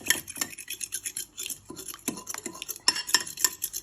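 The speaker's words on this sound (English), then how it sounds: "So now you just want to keep whisking your eggs." Eggs are whisked in a bowl for a Rocky Road cake, giving close, quiet, rhythmic scraping and clinking of the whisk against the bowl in quick repeated strokes.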